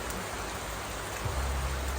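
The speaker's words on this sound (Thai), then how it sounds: "แต่ว่าฝนตกนะคะ เดี๋ยวรอให้ฝนหยุดก่อนนะคะ" Rain falls at a glamping site beside a stream in Kaeng Khoi, Saraburi, as a steady, dense hiss that stays constant and fairly close, with no voices.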